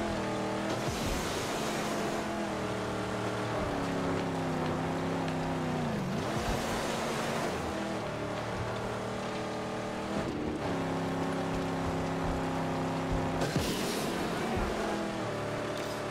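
A car engine in the Mad Max video game, a loud, continuous racing roar with rising and falling pitch as it accelerates, shifts and slows, only brief faint talk on top.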